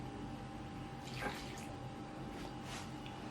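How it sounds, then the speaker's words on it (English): Warm boiled water pours steadily onto African black soap, a soft continuous trickle heard close but faint over a steady background hiss, with no talking. "I'm just going to go in and add some water that I boiled"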